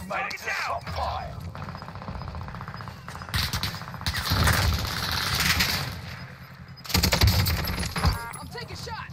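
Gunfire in the Call of Duty Warzone video game, several bursts of shots at varying distances that are loud and clustered, mixed with game sounds and a voice talking over them.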